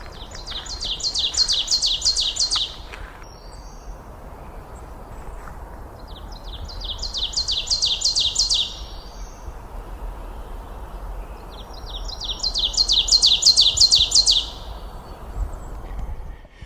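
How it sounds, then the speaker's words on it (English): An ovenbird in woodland edge in Maine sings three loud, rising bursts of repeated chanting phrases, each about two to three seconds long, separated by pauses over a quiet background. "Well, that is an ovenbird."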